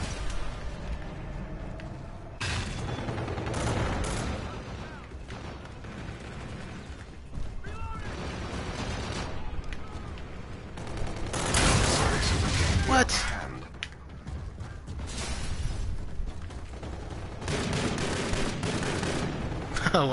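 Dense, sustained automatic gunfire from Call of Duty: Infinite Warfare beta multiplayer, long bursts and overlapping volleys running nearly the whole time, loud and close with heavy peaks near the middle, with voices talking underneath.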